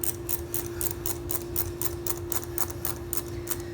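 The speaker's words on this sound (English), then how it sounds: "I like to use my little ratcheting box end here." A small ratcheting box-end wrench clicks in a quick, regular series of close, crisp ticks while turning a bolt into aluminum on an XR80R motorcycle frame, with a steady low hum underneath.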